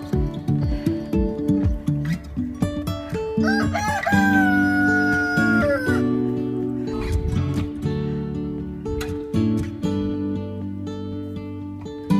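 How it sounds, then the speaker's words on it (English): A flock of chickens clucking busily up close, with a loud drawn-out rooster crow rising over them partway through. "Make these some very happy chickens."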